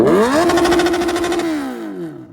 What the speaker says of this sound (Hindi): बाइक को रोर करने वाले हैं।